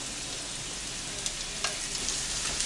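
Small pieces of octopus frying in a moderately hot pan, a steady broadband sizzle with a few brief stirring clicks, close and continuous, no talking.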